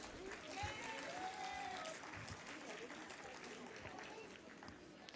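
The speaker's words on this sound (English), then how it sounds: "Let's give them a huge round of applause." Applause from an audience at a Rotary fashion competition, a soft, dense patter of many hands filling the room, with crowd chatter and voices mixed underneath.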